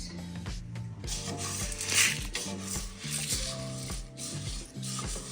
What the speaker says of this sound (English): So just stirring. We're gonna get a little toast.